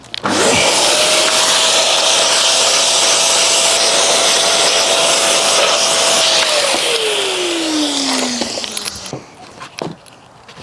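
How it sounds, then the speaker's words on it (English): Shop vacuum cleaner running steadily while car floor mats are vacuumed, a loud continuous whine and rushing airflow that holds level for several seconds, then winds down in pitch as the motor shuts off, leaving faint rustling. "You vacuum all the mats, and then you put them all back in."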